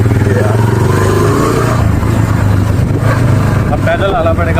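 A motorcycle engine runs loud and close on a village road in Pakistan, a constant throaty drone with slight rises in revs, while people talk over it.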